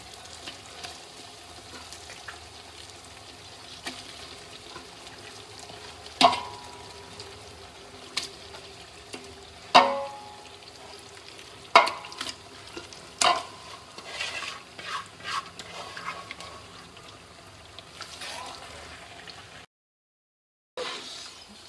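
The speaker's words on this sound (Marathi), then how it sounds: "त्याच्यामध्ये चिकन सोडते खालती." Chicken fries on a pan with a low constant sizzle while a spoon stirs and scrapes it in scattered bursts, sharper clatters standing out, close by, ending with a brief silence and a final scrape.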